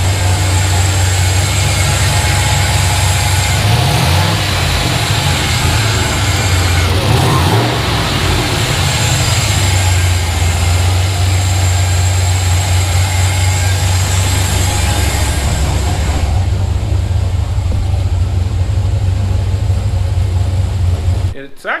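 A twin-turbo Chevrolet Nova engine idles in gear with a loud, steady low rumble and a constant hum that continues without a break, then cuts off abruptly at the end.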